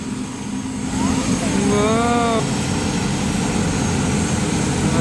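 A Philippine National Police helicopter lifts off at Camp Crame, its engine and rotor making a steady loud roar with a rising whine, while a person briefly exclaims over it.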